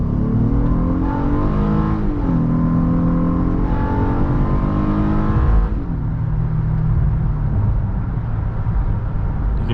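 A 2023 Honda Passport Elite crossover revving hard under acceleration, its engine pitch climbing through gear changes and rising into a loud VTEC howl before easing off, heard from inside the cabin with no talking.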